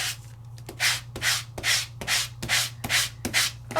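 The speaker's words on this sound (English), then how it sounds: "So I have sanded." A craft die-cut piece is sanded with steady back-and-forth rubbing strokes, about seven even scrapes in a row, close and clear over a low steady hum.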